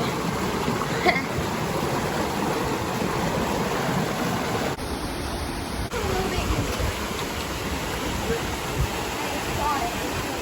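Waterfalls rush in The Narrows of Zion National Park, a steady broadband roar of falling water that fills the scene at constant loudness, briefly dulled for about a second partway through.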